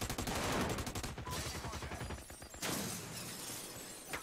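A flashbang grenade goes off in the America's Army video game, a sharp burst among dense rattling gunfire and shattering impacts, loud and continuous.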